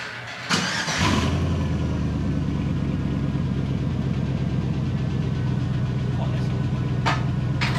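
A 2002 GMC truck's 4.8 V8 fires up and settles into a steady, deep idle rumble through a single Cherry Bomb Vortex muffler, loud and close for several seconds, with a few faint sharp clicks near the end.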